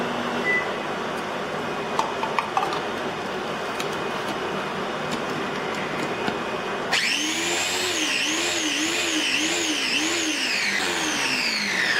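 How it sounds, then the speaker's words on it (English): A kitchen blender whirs loudly and steadily, blending a peppered mixture for a steak quesadilla until smooth, its motor pitch rising and falling in waves after a stretch of busier, noisy kitchen sound. "blend until smooth"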